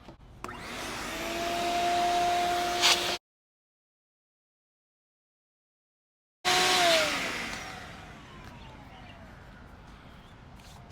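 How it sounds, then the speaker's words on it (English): A vacuum cleaner whines steadily while cleaning an old racquet stringing machine, switched off, silent for a few seconds, then restarted and winding down. "I have a vacuum here that I'm going to clean off the machine with"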